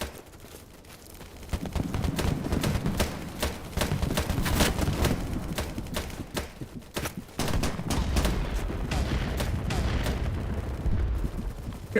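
Rapid gunfire in a Fallout video game crackles in dense bursts of sharp shots, loud and near, with some deeper booms mixed in and a voice speaking faintly underneath.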